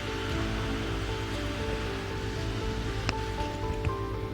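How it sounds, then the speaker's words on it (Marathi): Room-temperature milk trickles slowly into an Oreo biscuit batter while it is stirred, giving a steady, close, watery swishing with a few brighter clinks near the end. "ते मी दूध यात हळूहळू टाकून याचं बॅटर बनवून घ्यायचं"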